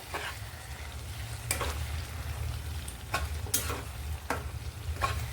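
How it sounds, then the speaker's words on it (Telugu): A ridge gourd and tomato curry bubbling and sizzling softly in a pan, a low steady simmer broken by several sharp clicks and pops spaced a second or so apart, no voices. "చూడండి ఎలా ఉడుకుతుందో."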